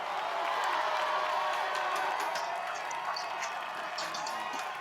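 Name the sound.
crowd cheering in support of ninja competitor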